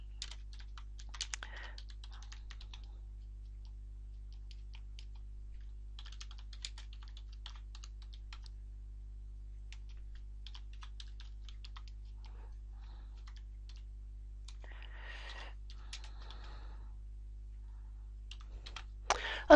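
Quiet bursts of typing on a computer keyboard while customer details are entered into software, clusters of soft key clicks separated by pauses over a steady low electrical hum.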